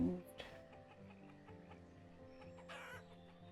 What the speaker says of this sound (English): Chickens are doing their thing.